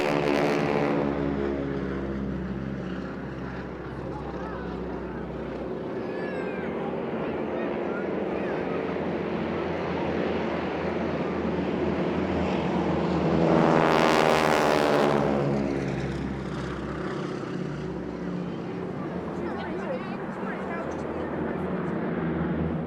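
Boeing Stearman biplanes at a seaside airshow, a steady droning propeller engine rumble throughout, swelling to a louder close pass near the middle before easing back, with a faint voice in the background.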